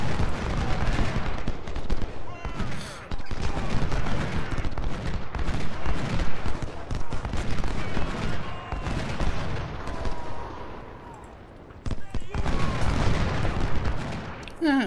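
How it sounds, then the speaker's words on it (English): A Civil War video game battle at Thoroughfare Gap, with dense crackling rifle volleys and heavy artillery booms rolling together in loud, overlapping bursts, a brief lull near the end, then renewed firing. "he is shooting back quite well"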